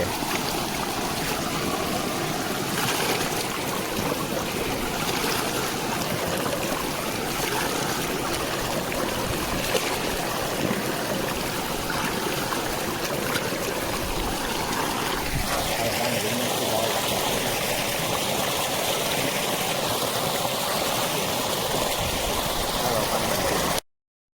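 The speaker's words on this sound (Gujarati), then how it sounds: "ધોરિયા પાણી ચાલુ છે." Irrigation water runs continuously through an open channel on a farm, a steady broadband rushing and trickling that stays constant throughout, with no clear talk over it.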